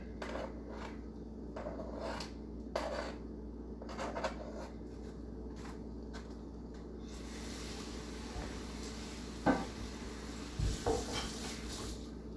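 Diced pork shoulder blade steak goes into a pan of soy-seasoned fried rice, with quiet utensil and pan clatter, a few sharp clanks near the end, and a faint low sizzle underneath.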